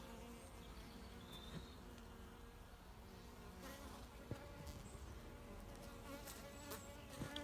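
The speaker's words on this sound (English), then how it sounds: "Here are the bees, and they've got lots of honey down in there." Honey bees buzz in a full hive prepared for winter, a faint, continuous droning hum with scattered higher whines from individual bees moving close by.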